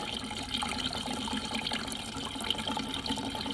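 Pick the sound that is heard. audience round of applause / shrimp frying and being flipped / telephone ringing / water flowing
water flowing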